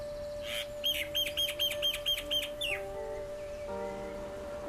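A common myna calls in Bahrain with a fast run of about ten bright, repeated chirping notes over a steady background hum, moderately close and fairly clear.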